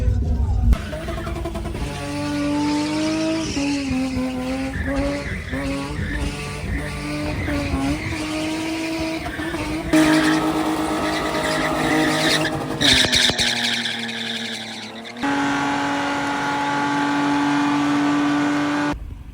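A car spinning inside a spin box at a Pretoria vs Witbank spin event, with a loud sustained engine rev, wavering tyre squeal and skidding that shifts in pitch, cuts off briefly and then resumes, close and continuous.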